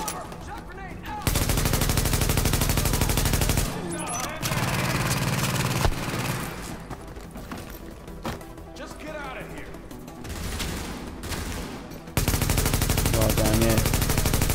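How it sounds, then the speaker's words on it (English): Enemy gunfire in Tom Clancy's The Division, bursts of shots and automatic fire running through the clip, loud at the start and end, mixed with game sounds and a player talking over it. "Oh no! I'm getting shot at."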